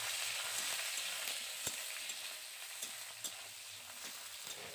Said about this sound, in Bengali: পেঁয়াজটাকে আমি লাল করে ভেজে নিচ্ছি।